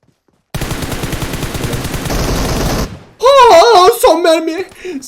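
Rapid automatic gunfire in the mobile game PUBG Mobile, a dense, loud burst lasting a couple of seconds that cuts off abruptly, followed by someone shouting excitedly.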